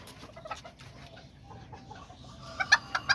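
A mother hen on a small farm clucking in soft, scattered bursts, growing louder and more rhythmic toward the end, heard alone and close by.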